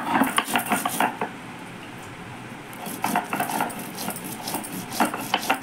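Cumin being ground on a stone grinding slab in a home kitchen, with repeated rough scraping and knocking strokes in bursts, close and moderately loud, and a short quieter pause between them.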